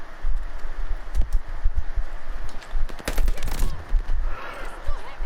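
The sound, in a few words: MP40 submachine gun fire in Call of Duty: Vanguard video game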